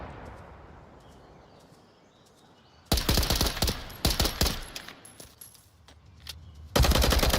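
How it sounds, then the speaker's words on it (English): Rapid bursts of automatic gunfire crack out in close clusters after a quiet stretch, with a final loud volley at the end; combat sounds from the VR shooter game Onward during a competitive match. "More the gunshots"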